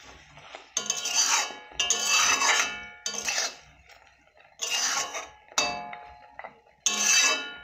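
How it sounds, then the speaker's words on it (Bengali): Toast is stirred and tossed in a pan over a low gas flame, giving repeated bursts of metallic scraping and clinking from utensil on pan, separated by short pauses, close and fairly quiet with no talking. "টোস্টটাকে দেব, দিয়ে নেড়ে চেড়ে নেব"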